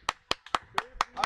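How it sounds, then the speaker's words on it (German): Five or six sharp, separate hand claps spaced evenly over about a second, close and fairly quiet, with no talk. "Applaus!"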